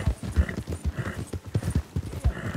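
Horse hooves clip-clop at a steady walking rhythm in Red Dead Redemption 2, close and fairly loud, with faint background ambience and no talking.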